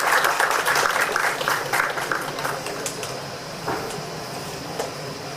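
Audience applause at a business conference in India, a loud burst of clapping that slowly thins and fades into scattered claps in a large hall.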